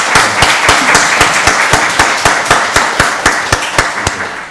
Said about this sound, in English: Let's give Restoration Storehouse a round of applause.